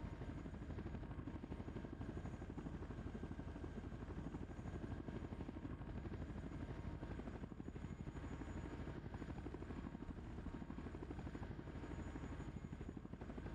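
A Chinook helicopter in the tank simulator Steel Beasts Pro gives a steady, loud rotor thrum with a dense low-frequency buzz that holds unbroken for the whole stretch, with no talking over it.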